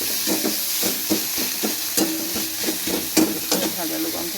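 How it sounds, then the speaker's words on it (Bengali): Garlic and green chili frying in a pan with onion for a raw banana kofta curry: a steady close sizzle broken by regular scraping strokes of a spatula, with no talking. "একটু ভাজা হয়ে যাবে, দিয়ে দিলাম কাঁচা লঙ্কাটা"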